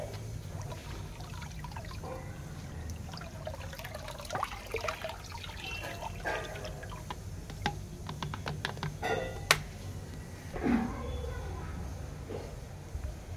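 Hand swishing through water to mix a Moina live-feed culture, a soft ongoing trickle and slosh with splashy bursts, close and moderately quiet over steady low background hum.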